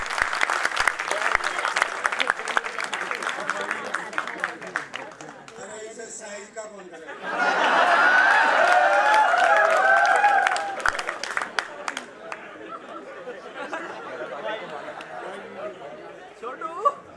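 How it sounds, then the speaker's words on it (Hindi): An audience at a Hindi poetry gathering (kavi sammelan) applauds loudly in a dense burst for a few seconds, framed by someone speaking into a microphone before and after. "मैं चाहता हूं पूरा सदन जोरदार तालियों से आमंत्रित करें।"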